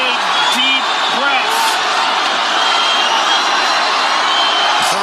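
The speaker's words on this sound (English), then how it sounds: "Crowd goes bananas as McGregor gets upright" Arena crowd at UFC 229 roaring and cheering loudly and continuously as Conor McGregor gets back up against Khabib Nurmagomedov, with a dense wash of noise and a commentator's voice running over it.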